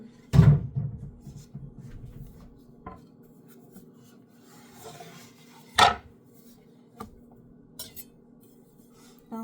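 A ripe papaya being sliced with a knife on a cutting board, a few sharp separate chops and thuds spaced apart over quiet, with faint handling rubs between them.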